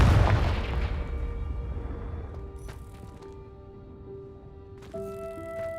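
A Confringo fire spell bursts in Hogwarts Legacy, opening with a loud booming blast that rumbles and decays over several seconds, with faint magical tones and a second smaller burst near the end.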